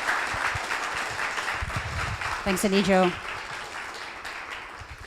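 Audience applause for a speaker being introduced at an evening lecture on sustainable systems, a steady broad wash of clapping running throughout, with a voice speaking briefly over it near the end.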